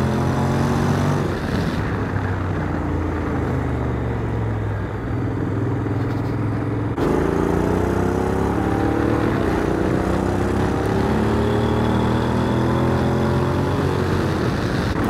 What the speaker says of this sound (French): Vous voyez le petit rétrogradage, j'ai rien demandé, ça rétrograde.